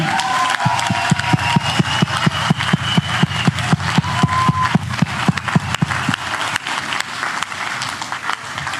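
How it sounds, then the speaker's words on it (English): A political rally crowd gives a loud round of applause, with many hands clapping in a fast, rhythmic beat that gradually fades and thins toward the end. "Let's give them a round of applause again"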